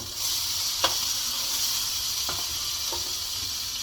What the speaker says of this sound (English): we're going to let that sit there and simmer a little bit